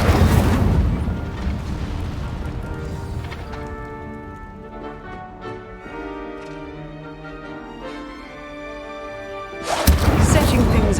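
A fire spell blast in the Hogwarts Legacy video game, a loud whooshing burst at the start and again at the end, with game music and dialogue playing in between.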